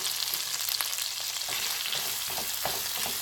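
Onions fry and sizzle in a pan for curried rice, giving a steady, close crackling hiss with occasional stirring scrapes and no voices.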